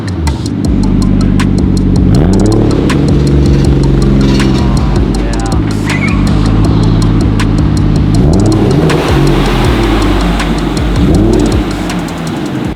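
A Toyota Chaser JZX100 with a Tomei exhaust revs hard and loud up close. Its engine note climbs and falls through repeated rev sweeps over a steady idle drone.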